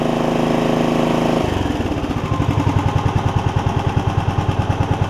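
A Kawasaki 9hp engine on a John Deere RX75 riding mower runs loud and close, then drops from a steady high drone to a slower, pulsing idle with a regular chugging beat.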